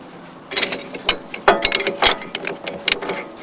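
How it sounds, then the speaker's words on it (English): Ratcheting clicks as a winch line is fastened to a shackle for off-road recovery, a run of sharp mechanical clacks and bursts at close range with no talk. "I'm now going to fasten it to the shackle"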